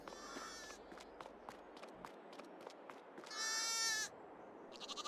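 Sheep in the Farming Simulator 22 video game bleat in a few long, wavering calls, one louder and closer, among soft scattered footsteps and ambient farm noise.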